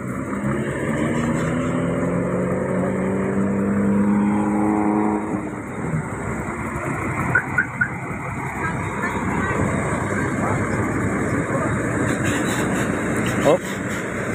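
An overloaded truck carrying crushed stone or sand at a roadside traffic enforcement check, its engine a loud, steady drone close by under continuous traffic noise and someone talking.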